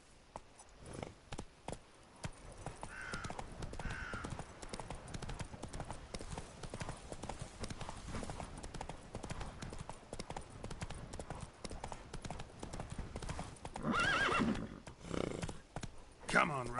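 Roach, the horse in The Witcher 3, gallops in a fast, continuous clip-clop of hooves that grows louder near the end, with voices talking over it at times.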